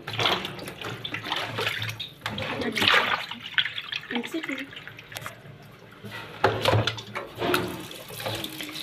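Tap water runs and splashes intermittently as raw chicken is rinsed in a sink, with uneven bursts of spatter and someone talking over it.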